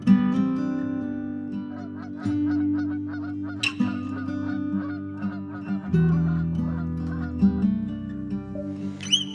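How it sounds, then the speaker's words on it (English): Geese honk repeatedly over sustained music on the North Norfolk coast, a clear chorus of nasal calls in steady bursts that stays prominent throughout. "Skies all open wide, geese go high and over."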